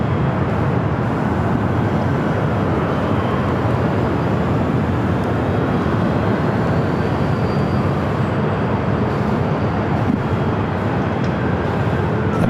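Steady broadband jet rumble from a KLM Boeing 777-200ER taxiing toward runway 24 left at Los Angeles LAX, a continuous loud drone holding evenly throughout with a faint rising whine partway through and no talk.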